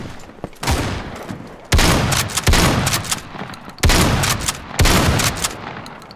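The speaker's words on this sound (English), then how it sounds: "I love the shotgun on here" Shotgun blasts in the video game Battalion 1944: four heavy, booming shots at a few seconds' spacing, each with a long ringing tail, loud and close, amid faint background firing.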